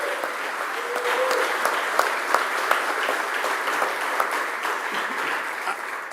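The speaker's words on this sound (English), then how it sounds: "Give a round of applause for Sam T." Sustained applause from a crowd at a political rally in Philadelphia, a dense steady wash of clapping with a few sharper individual claps standing out, continuing for several seconds without talk.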